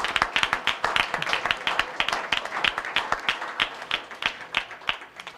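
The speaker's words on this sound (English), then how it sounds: "let's give another round of applause for Dante Carey." Applause from an audience at a high school signing day ceremony, a few seconds of steady, moderately loud clapping by a modest crowd in an indoor room.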